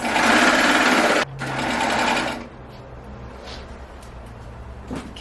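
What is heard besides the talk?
overlocker finishing raw fabric edges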